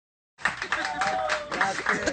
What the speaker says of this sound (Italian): Ma che è un applauso forte questo?